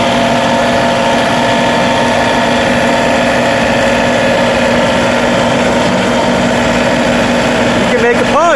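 A John Deere 3038E compact tractor engine idles close by in a steady, loud, unbroken diesel drone with a low rumble throughout.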